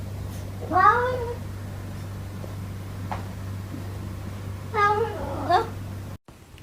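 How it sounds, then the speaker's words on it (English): A cat meows twice, clear and fairly close, with a quieter mew in between, over a steady low electrical hum and otherwise quiet indoor room. "Meow."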